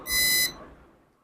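A digital multimeter in diode buzzer mode gives a single short electronic beep lasting about half a second, clear and close in a quiet room during a Redmi Note 10 Pro phone repair.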